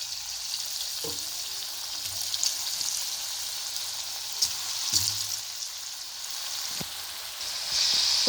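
Potatoes for potato kebab fry in hot oil with a steady, close, crackling sizzle, broken now and then by soft clinks and taps of a utensil against the pan.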